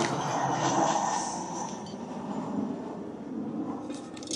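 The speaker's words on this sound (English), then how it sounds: "Got a plane landing on my head." A low-flying airplane passes overhead outdoors at a camp, a steady broad engine roar that swells early and then holds loud and continuous throughout.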